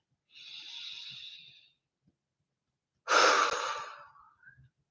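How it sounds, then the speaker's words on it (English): People taking a deep breath, one long airy inhale followed after a pause by a stronger, louder exhale, close and quiet with no talking. "Let's take a breath."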